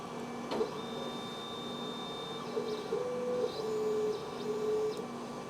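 A Monport 40 watt CO2 laser cuts through 3/4 inch pine with a steady mechanical hum, punctuated by faint whirring and short tonal movements of the machine running alone at low level.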